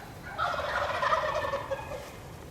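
A wild turkey gobbler roosted in a tree gobbles loudly and close by in Nebraska, one rattling, rapid gobble that rises and trails off against a quiet outdoor background.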